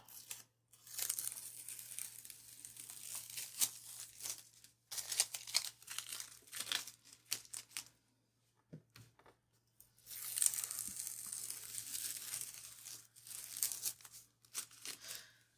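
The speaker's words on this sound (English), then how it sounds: "I'm going to take my tape off" Masking tape peeled slowly off a large sheet of paper after acrylic painting, giving long crinkly tearing rips in several stretches separated by brief quiet gaps, close up and with no voices.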